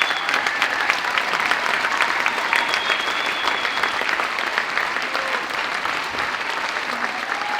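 Sustained clapping from a crowd at a children's dance concert, dense and even throughout, moderately loud with no pause.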